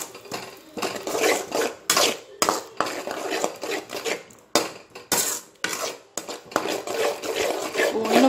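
A utensil stirs egg with onion and green chilli in a pan for egg chilli idli, making rhythmic metallic scraping strokes in quick, close bursts separated by short pauses.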